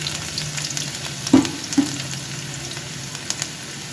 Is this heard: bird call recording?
no